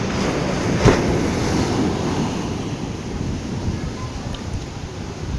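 Ocean surf at Drini beach rolls in as a steady, loud wash of breaking waves, with wind buffeting the microphone and no voices over it.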